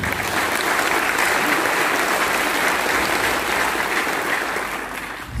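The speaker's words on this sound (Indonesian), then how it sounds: "Tepuk tangan untuk orang tua kami." Sustained, loud applause from a large audience at a maritime academy cadet inauguration night, honoring the parents, dense clapping that holds steady and fades slightly near the end.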